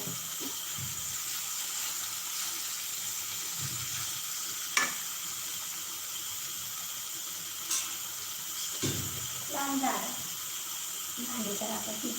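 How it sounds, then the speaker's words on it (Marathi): Steady sizzling of spice masala frying in a pan with water for rajma, with occasional clinks and scrapes of stirring and a brief faint voice near the end. "हेच पाणी घालून घालून थोडासा मसाला भाजत राहायचा आहे"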